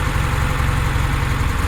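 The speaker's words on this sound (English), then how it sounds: "You can kind of hear it surging a little bit as it drops the cylinder and brings one back on." A 1966 Porsche 912 engine idling with a cylinder dropping out, giving a steady low rumble with a faint uneven surge, close and loud, with no voices.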